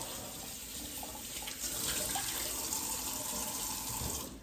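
A kitchen tap runs steadily into the sink while hands are washed, a constant close splashing flow that stops just before the end.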